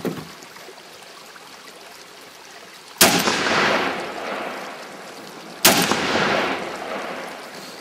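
Two loud, sharp gunshots from a Kel-Tec RFB forward-ejection bullpup rifle fired outdoors, a few seconds apart, each with a long rolling echo that fades out.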